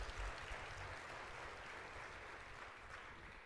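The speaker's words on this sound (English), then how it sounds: "Can we give her another round of applause" Steady, distant applause fills the clip as a faint, continuous patter of clapping with no voices.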